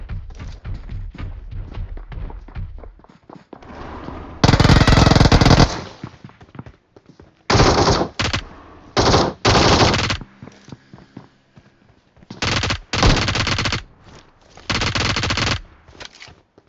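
Bursts of automatic gunfire in the mobile battle-royale game PUBG Mobile, loud and close, arriving in several separate volleys with short gaps between them after a stretch of softer game ambience, with no talk over the shots.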